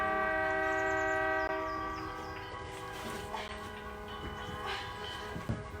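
Car horns honking in support of healthcare workers, many sustained horn tones sounding together from a distance, loud at first and then tapering off, with a few brief knocks and bumps nearby.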